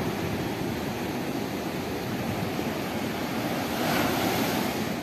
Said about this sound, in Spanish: El mar sigue golpeando la barda del hotel.